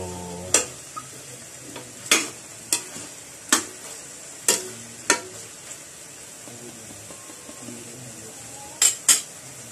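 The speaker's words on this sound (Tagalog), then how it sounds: "Haluin muna natin mga idol." A spoon scrapes and clinks against a pan while half-cooked chicken tinola is stirred, with about a dozen sharp, irregular metallic knocks over a soft background sizzle, close and distinct.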